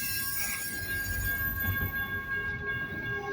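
A BNSF intermodal freight train with mid and rear distributed power units rolls past close by, a steady broad rumble of wheels and railcars with faint high wheel squeal, no talking.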